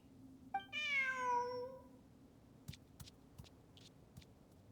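A single drawn-out, rising-then-falling cat meow from a Genshin Impact game character, fairly close, followed by soft clicks and taps over a low background hum.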